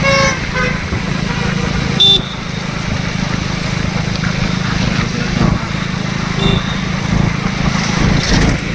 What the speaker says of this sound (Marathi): जेव्हा आपण गाडीवरनं जातो तेव्हा हॉर्न जोरात वाजवतात लोक